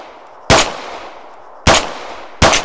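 Three loud, sharp single gunshots from an Arma 3 firefight, spaced about a second apart, each ending in a quick reverberant tail, with no talking.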